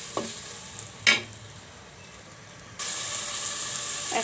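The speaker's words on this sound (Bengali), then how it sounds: "মশলাগুলো একটু কষিয়ে নেব।" Spices sautéing in oil for a hilsa fish curry with tomato: a few soft stirring clicks and a scrape, then a steady, close sizzle hisses on without pause.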